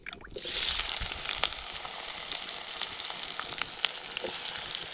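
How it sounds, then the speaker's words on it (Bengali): Chopped onions hit hot mustard oil with whole garam masala and bay leaves, outdoors in a field: a loud sizzle bursts up, then settles into a steady, close frying crackle with no talk. "পেঁয়াজটি হালকা লাল লাল করে ভেজে নিচ্ছি"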